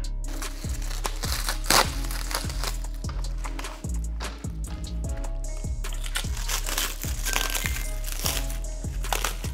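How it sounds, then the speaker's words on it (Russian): Plastic packaging and cellophane being unwrapped from a boxed Traxxas TRX-6 Ultimate RC hauler, giving close, continuous crinkling and crackling with sharp rustles and crunches throughout. "пакет, под пакетом пакет, и еще под пакетом еще, грубо говоря, пакет, опять же, целлофан"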